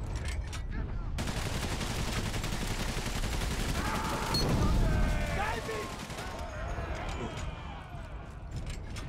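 Rapid machine gun fire and gunshots crackle nonstop through a First World War battle in the video game Valiant Hearts, loud and dense, with scattered explosions layered in and a voice talking over parts of it.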